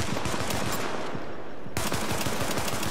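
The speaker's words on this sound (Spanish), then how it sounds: "Le encajamos como 100 tiros en la espalda" Rapid automatic gunfire in The Division video game, loud and continuous bursts of shots that briefly thin out before the firing resumes at full intensity.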